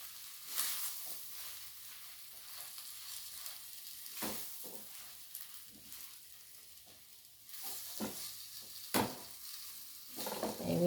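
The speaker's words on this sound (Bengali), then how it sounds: "দিয়ে আলু আর মাছ আমি খুব ভালোভাবে একসঙ্গে কষিয়ে নেব" Mashed potato and fish sautéed together in a pan for fish balls, giving a soft continuous sizzle under intermittent stirring scrapes and a few louder utensil knocks.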